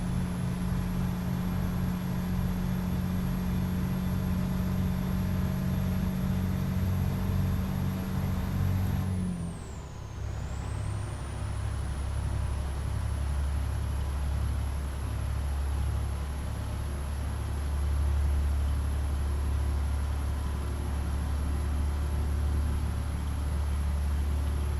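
A heavy truck engine drones steadily in American Truck Simulator, a deep constant rumble hauling a 39K load in an Argosy, with a brief dip partway through before the low engine hum resumes.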